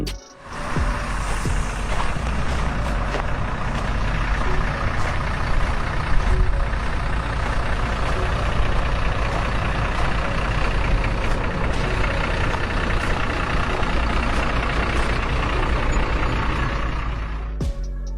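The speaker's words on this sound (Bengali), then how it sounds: "ইউরোপের একটি শহরে তুষার ঝড়ের পর চলমান বাসের দৃশ্যটি দেখুন।" A bus engine drones steadily with road rumble and low clatter on a European city street after a snowstorm, loud and continuous, with no voices.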